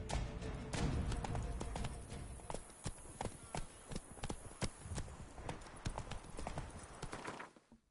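In Witcher 3, the horse Roach's hooves clip-clop in a steady, fairly close rhythm, loud at first and then quieter with crisp, distinct taps before fading out at the end.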